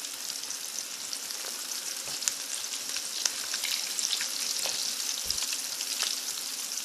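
Cuttlefish calamari sizzles steadily in a hot pan, a dense continuous frying hiss with scattered pops and spits throughout, loud and close with no talking.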